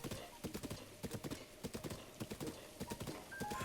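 Rhythmic hoofbeats clop in a quick galloping pattern in Zelda: Breath of the Wild, fairly faint, with a brief musical tone near the end.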